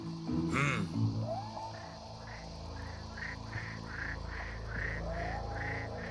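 Frogs croak in a repeated, evenly spaced series of short calls against a dense night chorus of insects, with a few louder croaks early on.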